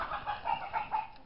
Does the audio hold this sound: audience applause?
no